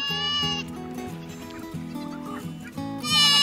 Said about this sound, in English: let's go spend some time with this crazy bunch of goats